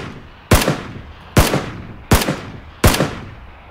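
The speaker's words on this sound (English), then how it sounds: "Shoot, shoot, shoot, keep shooting" Four loud, sharp gunshot bursts from a PUBG match ring out at roughly even intervals, each a hard crack with a short decaying tail, with no talking between them.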